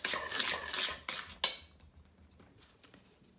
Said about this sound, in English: Maybe I'll give it a quick mix before I add any wet ingredients